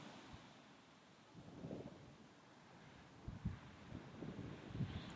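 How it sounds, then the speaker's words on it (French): Desert wind blows steadily across an open sandy spot, a low, soft rushing roar with gentle gusty swells and muffled buffeting against the microphone, faint and distant with no voices. "Voilà, tu vois, il y a du vent, ça souffle"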